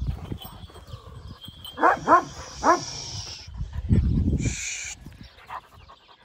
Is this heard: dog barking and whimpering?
yes